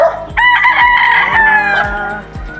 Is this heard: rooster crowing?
yes